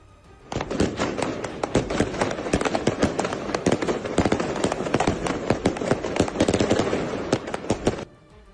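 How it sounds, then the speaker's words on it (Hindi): A long string of firecrackers set off in the middle of a street in Lebanon pops rapidly and loudly, dozens of sharp cracks in a dense crackling burst lasting several seconds before stopping abruptly. "लोगों ने बीच सड़क पर पटाखे जलाए।"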